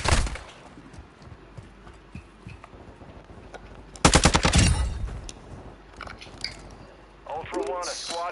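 Automatic gunfire erupts in a burst midway through a Call of Duty DMZ match, loud and close, with quieter scattered game noise before and a spoken voice near the end.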